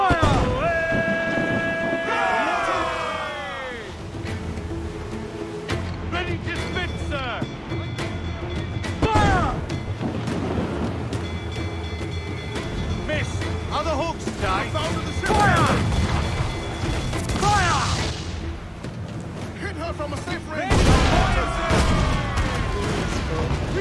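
Ship cannons firing broadsides in Assassin's Creed Black Flag, a run of deep booms and crashing blasts over about twenty-four seconds, mixed with game music and voices talking throughout.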